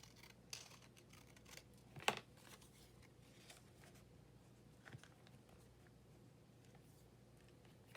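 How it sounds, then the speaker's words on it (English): Scissors snip paper for a collage that uses a ticket and a key, giving a few quiet, close cuts with one sharper snip near the middle against a faint room background. "So let me cut away this."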